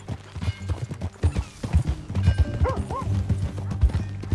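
Horse hooves clip-clop steadily beneath a rider in the Red Dead Redemption 2 video game, a close rhythmic beat that runs under game music and brief voices.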